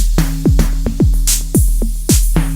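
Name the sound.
open hi-hat drum sound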